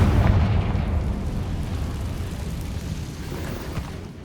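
A booming blast from the Confringo spell in Hogwarts Legacy, loud and heavy at the start, then rumbling on and slowly fading as the low roar dies away, with no voices over it.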